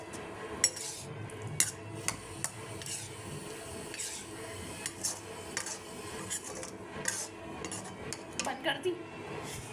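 A spoon mixes spaghetti with mayonnaise in a dish, giving repeated clinks and scrapes of metal on the bowl at an uneven rhythm over a faint background hum, close and fairly quiet.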